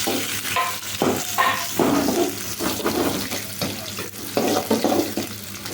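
Onions fry in hot oil in a pan for egg rice, a close, steady sizzle broken by bursts of spatula stirring and scraping, with no talking.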